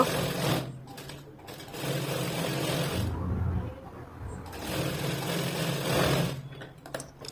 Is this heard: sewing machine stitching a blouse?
yes